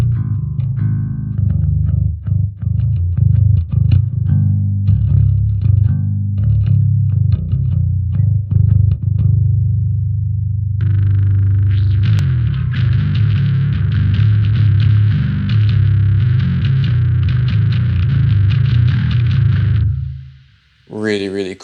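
Heavily distorted, buzzy bass tones from a Neural DSP Darkglass plugin, playing a choppy riff before shifting to a thicker sustained drone that cuts off near the end.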